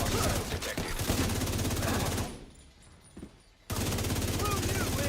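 Rapid automatic rifle fire in The Division 2 video game, a dense loud burst for about two seconds, a short pause, then another sustained burst.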